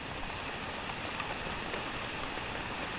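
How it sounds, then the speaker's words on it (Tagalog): Steady rain falls outdoors beside a hut and vegetable garden with eggplant and cabbages, a dense, even hiss of drops hitting surfaces at constant volume, with no talking. "Umulan na naman."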